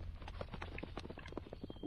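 Horse hooves clip-clop in the video game To the Moon, a steady run of quiet, evenly spaced hoofbeats with faint game sounds beneath.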